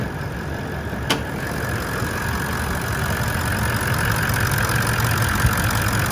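A 2018 Toyota Land Cruiser GX 79 series ute engine idles steadily up close, a smooth constant rumble with a faint high whine and one sharp click early on.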